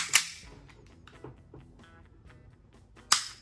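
A WE Hi-Capa 5.1 T-REX airsoft gas pistol fires two sharp, loud cracks about three seconds apart, each followed by a brief mechanical rattle, with quiet clicking and handling noise in between.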